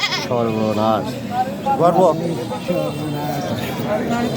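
Goats bleat repeatedly at a busy livestock market held for Eid al-Adha, with several wavering calls rising and falling close by while people talk in the background.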